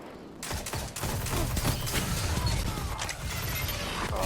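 Dense gunfire and explosive blasts during a Destiny 2 Crucible match, with a grenade explosion amid continuous loud shooting and crashing that fill the whole stretch.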